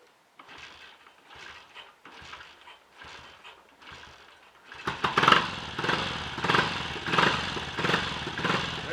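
A Triumph Tiger Cub trials motorcycle is kicked over several times with no battery fitted, giving a few separate mechanical thumps. The single-cylinder engine then catches and runs close by with a loud, uneven, throbbing beat.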